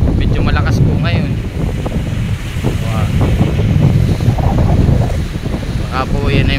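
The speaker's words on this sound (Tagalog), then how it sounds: "inabot ng habagat, ay medyo malakas po ngayon" Strong monsoon wind buffets a microphone aboard a boat on the open sea 100 nautical miles out, with roughly 6-foot waves churning and sloshing in a loud constant roar, while someone talks over it.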